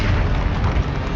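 Explosive Confringo spell cast in the Hogwarts Legacy video game, a loud sustained booming blast with dense low rumble filling the whole moment, no talk over it.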